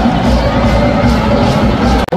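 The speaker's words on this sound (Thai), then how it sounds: "กองเชียร์ก็ได้เฮกันแบบสนั่นหวั่นไหวเลยครับ" A dense stadium crowd at a Thai league football match involving Buriram roars and cheers loudly and steadily, a continuous wall of voices with no break.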